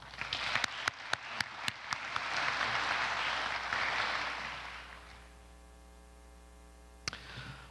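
A university commencement audience breaks into applause welcoming the stage party, a steady wash of clapping with a few sharp claps near the start that swells, then fades out, leaving a lone clap near the end.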